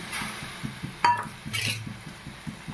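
Peas and diced potatoes being stirred in a pot of boiling water for a meat ghugni: a steady run of soft scraping strokes and dull spoon knocks, with a brighter clink partway through, close and fairly quiet.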